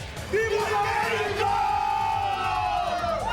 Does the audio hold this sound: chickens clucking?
no